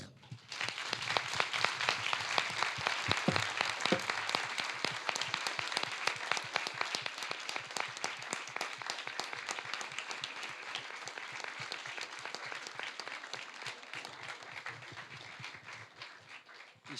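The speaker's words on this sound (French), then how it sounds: "Je pense qu'on peut l'applaudir." Sustained applause from a conference audience for a speaker on Western influence in Middle East crises, a dense rattle of many hands that swells quickly, holds for over fifteen seconds and tapers slightly at the end.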